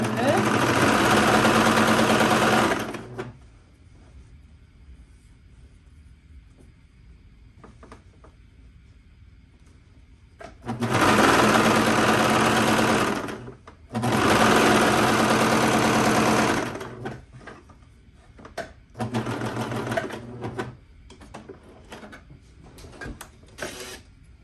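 A sewing machine runs a safety stitch on smocked pants in several loud, steady bursts separated by quiet pauses, with a few short clicks and brief runs later on.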